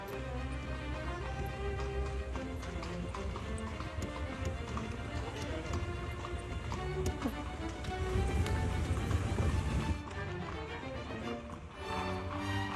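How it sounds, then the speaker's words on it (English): Horse and cart rolling through the streets of Vienna toward the Opera House, with steady hoof clip-clops over continuous busy street and wheel noise, fairly loud and close throughout, swelling briefly louder near the end. "We're going by horse and cart to the Opera House."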